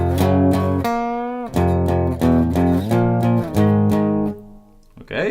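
An electric guitar plays the riff from a song, measures 16 and 17, as clear, loud chord stabs in a choppy rhythm followed by a short pause.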